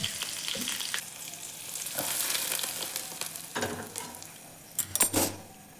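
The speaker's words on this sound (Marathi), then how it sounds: "आता फोडणी वरतून घेऊ आपण" Hot oil with tempering spices sizzles and crackles steadily, with a few sharp metallic clinks of a spoon against the pan near the end.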